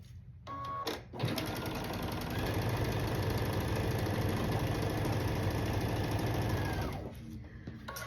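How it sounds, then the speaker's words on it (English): A sewing machine stitching quilt blocks together runs steadily for about six seconds, a loud, even mechanical whir with brief handling noises before and after, no talk. "I'm going to take the extra block from each row and sew it together"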